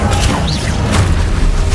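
Confringo fire-blast spell from Hogwarts Legacy, a short, loud booming burst with rumbling low-end and crackle amid ongoing battle noise.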